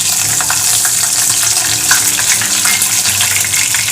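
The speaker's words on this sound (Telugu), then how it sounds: "ముందుగా మనం తరిగి పెట్టుకున్న పచ్చిమిర్చి వేసుకోవాలి." Chopped green chillies fry in hot oil in a kadai, giving a steady, loud, dense sizzle that crackles evenly throughout with no talk over it.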